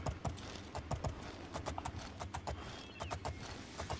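Horse hooves clip-clopping in The Elder Scrolls IV: Oblivion, a run of sharp close taps at an uneven trotting rhythm with no talk.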